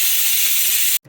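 Pressure cooker whistling on a stove while dal cooks, a loud bright hiss of escaping steam held for about a second before it cuts off sharply into quiet.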